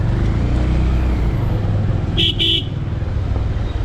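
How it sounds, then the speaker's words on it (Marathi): Dense road traffic on a potholed highway between Chhatrapati Sambhajinagar and Ahilyanagar, a steady loud engine and tyre rumble with a double car-horn toot partway through, no talking. "पुढं पहा ट्राफिक किती येतं केवळ या रस्त्याच्या कंडिशनमुळेच ट्रॅफिक आपल्याला इथं पाहायला मिळते"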